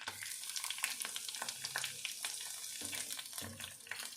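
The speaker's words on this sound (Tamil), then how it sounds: "இதையும் நல்லா பச்சை வாசனை போகிற அளவுக்கு வதக்கி விடுங்க" Crushed onion, green chili, ginger and garlic sauté with fennel seeds in oil for a prawn thokku, a close, busy crackling sizzle with constant small pops and stirring.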